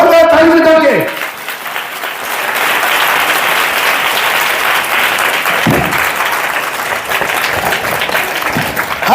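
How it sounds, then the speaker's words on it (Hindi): A church congregation claps loudly and steadily during a pastor's Hindi sermon. The clapping starts right after a short spoken phrase and holds as a dense roar, with faint voices underneath. "जोरदार ताली बजा के"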